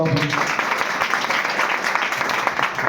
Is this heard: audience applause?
yes